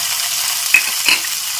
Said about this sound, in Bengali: এখন একটু হালকা নেড়ে চেড়ে ভেজে নিতে হবে টমেটো আর কাঁচা লঙ্কা